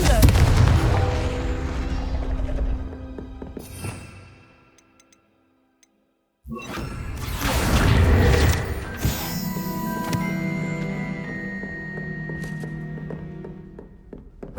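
Confringo spell blasts in Hogwarts Legacy, loud booming explosions with crackling debris and ringing magical tones, a brief near-silent gap, then another heavy blast and lingering chimes and rumble.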